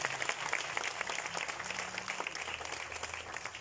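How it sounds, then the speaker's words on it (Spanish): An audience at a political party event in Tierra Blanca applauds a mayoral candidate, with dense, steady clapping from a crowd that carries evenly for several seconds. "démosle un aplauso a nuestro próximo alcalde"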